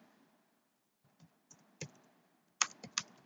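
A few soft keystrokes on a computer keyboard while entering an Oracle SQL query, scattered quiet taps building to a small cluster of louder clicks near the end, close up and without speech.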